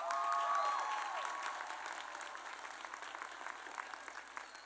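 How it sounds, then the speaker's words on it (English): At a high school graduation ceremony, an audience applauds graduates with sustained clapping that starts fuller and gradually thins into scattered claps, heard from a distance in a large hall, with no speech. "Please help me give our number 3 through 10 graduates a big round of applause."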